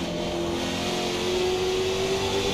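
Race car engine in a racing video game, a steady high-pitched drone holding one even note while the car runs at speed, loud and continuous with no talk over it.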